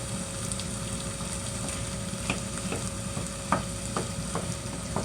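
Cherry tomatoes fry in a pan with a steady sizzle and the scrape of stirring. Scattered sharp pops and crackles stand out over the sizzle, a handful within a few seconds, close and moderately loud with no talk.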